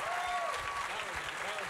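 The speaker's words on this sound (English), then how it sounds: "how about a round of applause for these guys?" A crowd at a baseball fan event gives a short burst of applause, steady clapping mixed with someone talking over it through a PA.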